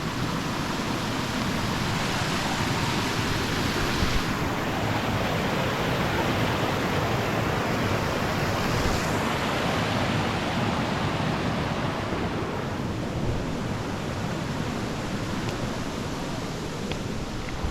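A stream runs beside the Devil's Backbone hiking trail in Kingsport, Tennessee, its water rushing in a steady, broad, unbroken wash that stays loud and even throughout, with no voices.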